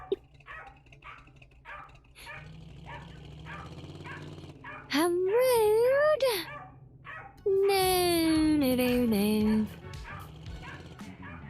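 A video game dog barks and whimpers in loud, drawn-out yelping bursts, two long strong stretches over background game sounds, with a person talking in between.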